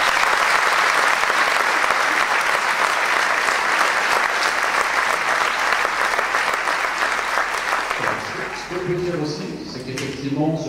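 A concert audience at a wind band and choir event in Beaune applauds the children, with loud, sustained clapping that thins out toward the end as a voice begins speaking.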